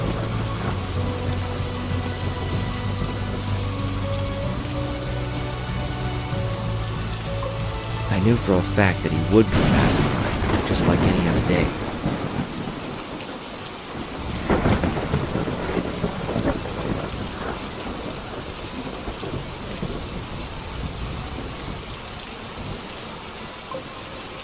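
Heavy rain pours down with rolling thunder in the video game Murder Diaries. The downpour hisses steadily under a narrating voice, and a loud thunder rumble swells partway through before easing back to rain.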